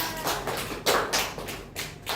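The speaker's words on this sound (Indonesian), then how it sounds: "Boleh tepuk tangan ya." Students in a classroom give a short round of hand clapping, a few uneven bursts of claps at moderate volume with a brief louder swell in the middle.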